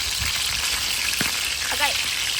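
Food frying in a pan during home Filipino cooking, a steady broadband sizzle with occasional pops and splatters, and a brief voice heard over it.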